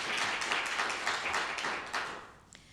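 Audience at a League of Women Voters candidate forum for councilmembers in Kitsap applauding the candidates, a dense burst of many hands clapping at close range that tapers off near the end, with no talking.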